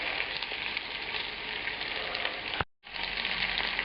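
Beef pieces browning in a hot pan sizzle in a dense, steady crackle, close and loud, with a brief dropout before the frying resumes.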